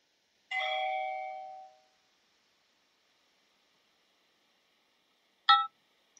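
A bell sound effect rings out clearly, a sustained chime decaying over about a second, then after a long silence a second, shorter ding near the end.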